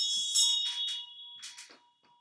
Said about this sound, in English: Oh, the bell is clear.